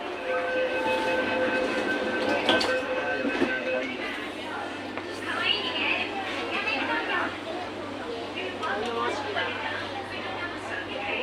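A train rumbles at a station platform with steady rail noise and a low hum, while voices and station announcements sound over it.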